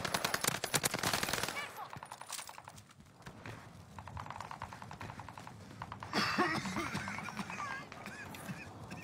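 Video game gunfire crackles in rapid automatic bursts amid the noise of a battle royale match, loud near bursts at the start and again later, with shorter volleys between.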